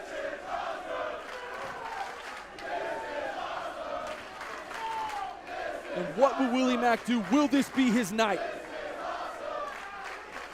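A wrestling crowd at a PCW Ultra show during Rob Van Dam versus Willie Mack swells into loud rhythmic chanting and cheers midway, heard under an excited commentator talking throughout.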